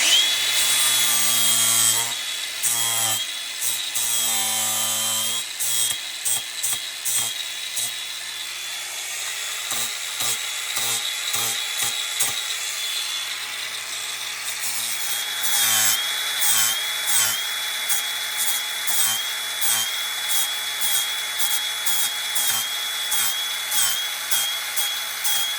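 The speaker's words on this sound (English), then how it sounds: "I'm just going to take a chunk out of the material with a grinder and with a flat disc on it" Angle grinder fitted with a flat disc cutting into material on a corrugated water tank, a loud sustained whine that repeatedly stutters and cuts out in short bursts as it bites and lifts off.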